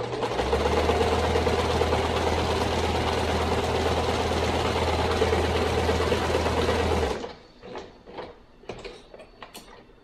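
A sewing machine stitching forward, back and forward to lock the seam on a stuffed hooved-animal body, a loud steady mechanical whir running for several seconds, then stopping into quiet handling clicks and rustles.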